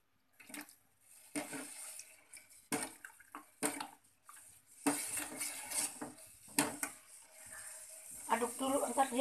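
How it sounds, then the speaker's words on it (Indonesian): A utensil scrapes and clinks against a pot while coconut milk is stirred, in irregular bursts of metallic knocks and rattles, close up and moderately loud. "Aduk dulu, entar dia kental kan."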